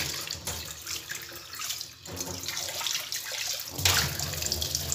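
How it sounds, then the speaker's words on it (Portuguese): Aroeira tree bark is rinsed under running tap water, a steady close splashing stream that swells and dips as it is washed, with no talking. "E vamos, ó, lavar toda ela com bastante água, tá?"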